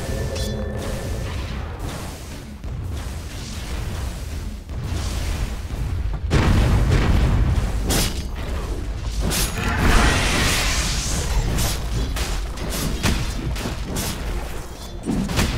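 A tower under attack in Dota 2, a dense continuous mix of booming impacts, crashes and clanking battle effects that stays loud throughout, with a few sharper hits.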